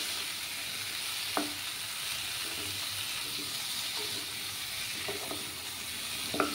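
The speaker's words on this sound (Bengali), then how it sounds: "আমি ভালোভাবে কষিয়ে নেব মশলাটাকে।" Spices with Kashmiri chili powder frying over a low flame, a constant close sizzle with occasional scraping strokes of a spoon through the paste, and no voices.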